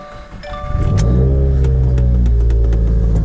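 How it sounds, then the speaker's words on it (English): Viair 444c air suspension compressor on a 2017 Subaru WRX with Air Lift 3P management, kicking on with a rising hum that settles into a loud, steady droning buzz, close by and alone. "I can hear the compressors kicking on"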